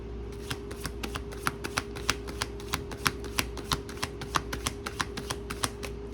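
Rapid flicking clicks of a tarot card deck being shuffled, a steady run of crisp snaps close by, with a low constant hum underneath.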